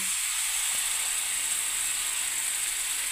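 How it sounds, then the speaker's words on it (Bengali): A paste of cashew, milk and paneer goes into a hot pan, giving a steady, close sizzling hiss that stays loud and even throughout with a brief soft splash at the start. "এবারে আমার যে কাজু দুধ আর পনির যে পেস্ট আছে সেটা আমি ঢেলে দিচ্ছি বন্ধুরা"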